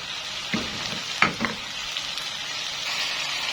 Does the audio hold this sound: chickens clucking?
no